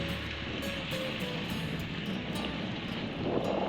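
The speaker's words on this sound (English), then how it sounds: "Bit of a windy old day" Gusting wind at the Emu Bay jetty on Kangaroo Island, buffeting steadily with a rough rushing roar and faint surf beneath, no voices.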